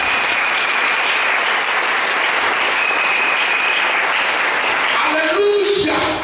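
A church congregation applauds and acclaims Jesus at a Sunday worship service, dense, loud, continuous clapping filling the room, with a few voices rising near the end.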